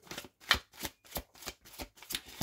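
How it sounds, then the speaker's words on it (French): Tarot cards shuffled by hand ahead of a three-card draw, giving a close, steady run of about eight evenly spaced riffling bursts with short pauses between them. "Allez, on va faire un tirage en 3 cartes, c'est parti."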